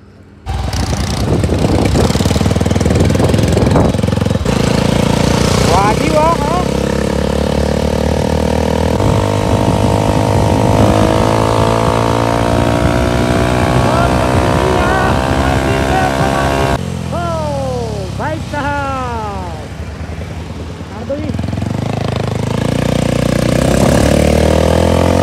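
A motorcycle engine fires up abruptly and settles into a loud, close idle, with a few quick throttle blips partway through.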